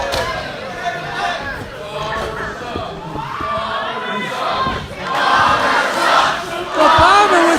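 A wrestling crowd at an NJCW show jeers a wrestler after a ladder is thrown into the ring, sustained mixed shouting and booing that swells louder toward the end, with a commentator's voice running over it.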